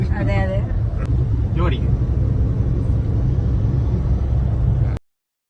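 Car cruising along a road toward Kottakkal, a steady low engine and road rumble inside the cabin that runs unbroken under people talking, then cuts off abruptly.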